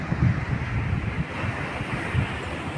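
Sea waves at a beach at high tide, a steady roar of surf with wind buffeting the microphone and low rumbling swells, close and continuous without speech.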